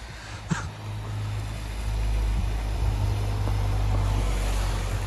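Cars drive along a dark street at night, their engines a steady, moderately loud low rumble that swells slightly partway through, with no voices.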